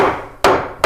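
Hammer blows driving a nail into wood for interior wall framing, two sharp, loud, close strikes about half a second apart against a dull background.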